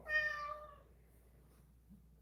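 A house cat gives a single short, bright meow right at the start, close by, then the room falls nearly silent.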